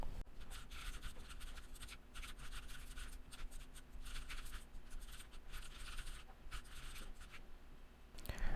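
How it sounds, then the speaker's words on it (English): Keyboard typing while entering React reducer code, a quiet continuous patter of small clicks and taps running steadily throughout, close and low in level with no talking. "let me type that out real quick"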